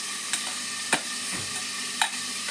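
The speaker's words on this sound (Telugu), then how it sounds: "ఇలా మొత్తం కూడా మిక్స్ చేసుకుంటున్నాను" Homemade cerelac powder, freshly ground, is stirred in a pan, giving soft scraping strokes with a few sharper clicks of the spoon against the metal, fairly quiet and without talk.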